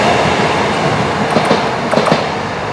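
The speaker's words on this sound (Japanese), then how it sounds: "路面電車、道路を走る小さな電車です。" A small streetcar tram runs along a city road in Japan during cherry blossom season, a steady rolling rumble with a few sharp wheel and rail clacks near the end, heard fairly close and without talk.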